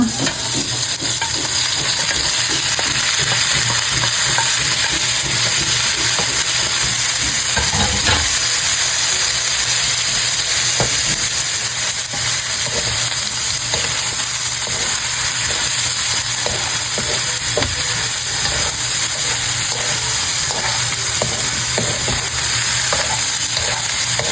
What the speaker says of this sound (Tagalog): igigisa na po niya ang bawang, luya, at saka po sibuyas